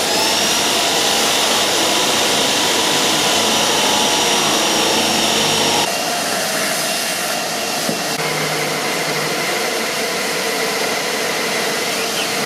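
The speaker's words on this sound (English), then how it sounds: "I'm going to use the pilot bit as well, because that will give me a center that I can then run this flat saw down" A power drill with a pilot bit and flat saw grinds steadily, cutting a hole out of material, a loud close continuous whine that shifts in tone partway through, with no talk.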